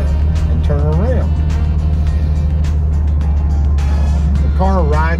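A 1964 Chevy Corvair Monza Convertible drives along with a steady low engine drone and road rumble, loud and constant, while someone talks over it.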